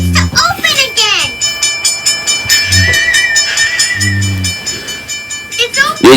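Little Red Train from a children's video game about Pete the Cat and Dora heading west, its tonal whistles and electronic chimes sounding over bright game music, with a voice and other talk coming in at intervals.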